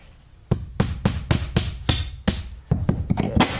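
A hammer drives a nail into a wooden floor joist while replacing a rotten sill plate, a run of about a dozen sharp, close, evenly paced blows.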